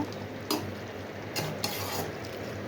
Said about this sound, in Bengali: সব কিছু দেওয়ার পরে আমি এটাকে আবার মিক্স করে নিব